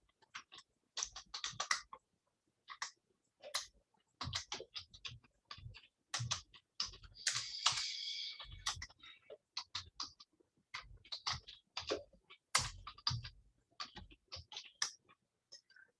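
Soft computer keyboard typing as code is entered, with irregular clusters of faint, close key clicks and taps running steadily for some time with short gaps between them.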